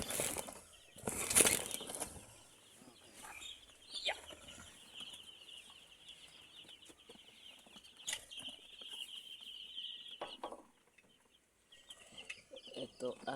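Three-day-old broiler chicks chirp steadily in a brooder, a dense high-pitched peeping chorus heard close, with a few louder flutters and bumps partway through.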